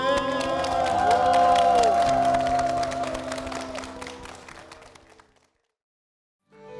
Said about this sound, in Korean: 주님께 영광의 박수 올려드리겠습니다